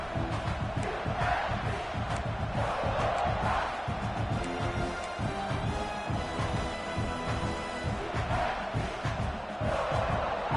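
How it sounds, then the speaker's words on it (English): A big football stadium crowd in an NCAA 26 video game roars continuously near the goal line, a dense sustained wash of cheering with no break. "this big crowd doing everything possible to inspire this defense down here near the goal line"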